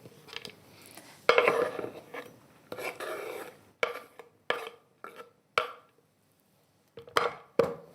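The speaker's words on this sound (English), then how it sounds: "And let's stir that through" A spoon scrapes and stirs dill through a dish in a pan on a switched-off stove, in short irregular strokes of rasping, clinking metal with brief pauses between them.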